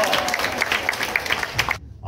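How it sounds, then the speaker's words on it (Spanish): A school audience at a commemorative event claps for nearly two seconds as a dense wash of applause, then the sound cuts off abruptly into near silence. "¡Un fuerte aplauso!"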